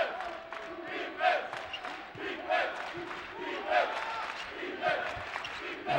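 A college basketball crowd at a Washington State game cheers and shouts encouragement for the home team's defense, rising and falling in waves of moderate, slightly distant noise.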